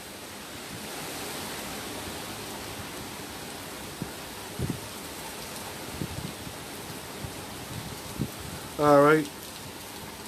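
Wind and rain from Hurricane Zeta make a steady, soft hiss outdoors across the whole stretch, and a voice speaks briefly near the end.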